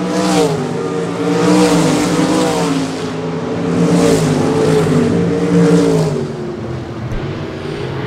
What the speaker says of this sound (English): Smith continues to lead over Lindbergh.